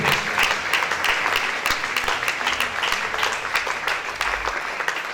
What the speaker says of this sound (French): Put your hands together, beautiful people.